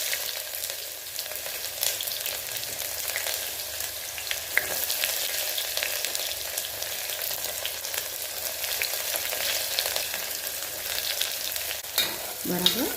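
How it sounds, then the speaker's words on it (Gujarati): Onion sizzles in hot oil with whole spices such as cloves and cumin while a dhaba-style paneer curry is cooked, a steady loud frying hiss with occasional stirring scrapes, no voices. "તો હવે આપણે તેની અંદર ડુંગળી એડ કરી દઈશું।"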